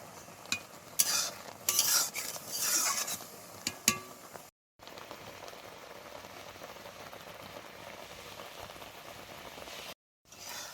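Tangy-sweet lemon pickle, made without oil, simmers and is stirred in a pan as the lemon juice cooks down, giving a steady close bubbling and scraping with bursts of stirring noise early on and no talking.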